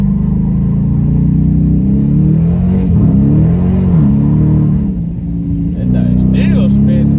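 A Dodge Challenger or Charger pulls away from a full stop with its wheels spinning, the engine rising and falling in a loud, close rev over a deep rumble, with a voice briefly audible.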